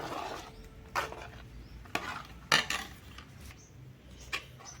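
Spoon stirring custard apple pulp in a bowl, heard as a few separate scraping clinks against the bowl, spaced about a second apart, fairly quiet and close.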